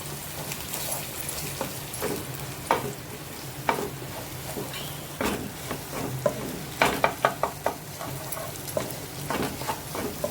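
Egg bhurji being broken up and fried in a pan, a steady sizzle under irregular scraping and tapping strokes of a spatula, close and moderately loud.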